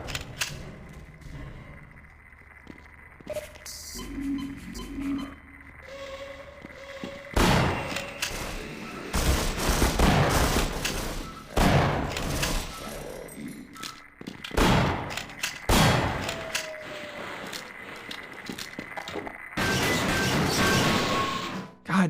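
Gunfire in the video game Half-Life on the Source engine, heard as loud repeated bursts of shots and crashing impacts aimed at the player, arriving in clusters over quieter game sounds.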